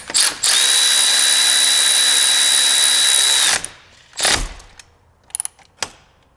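A power ratchet whirs loosely for about three seconds while working a bolt on the top radiator hose of a Peterbilt 389 truck, then stops, followed by a few short ratcheting clicks and bursts near the mic.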